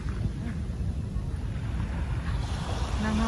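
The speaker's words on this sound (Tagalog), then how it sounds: "Nanghampas ng alon" Waves on Manila Bay wash in steadily against the shore after rain, a continuous low rumble of surf with wind noise at the microphone.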